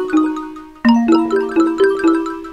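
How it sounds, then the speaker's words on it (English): A bell sample from a trap sample pack, triggered on an Akai MPK Mini MK2 pad controller, rings out in a short opening note and then a sequence of five loud, clear, bright chimes, each decaying smoothly into the next. "Here's a bell sample included."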